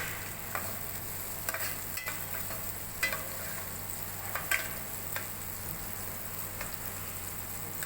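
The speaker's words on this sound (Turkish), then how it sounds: "Bunları da şöyle bir iki sefer karıştırdıktan sonra diğer işlemlere yavaş yavaş geçeceğiz." Peppers and chicken fry in a pan with a quiet, steady sizzle, and a spoon scrapes and clicks against it now and then as the food is stirred.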